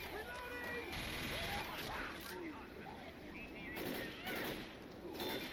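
A mounted gun in Left 4 Dead on a rooftop battle fires repeated heavy bursts, loud and rough, rising and fading in clusters while people talk over the shooting.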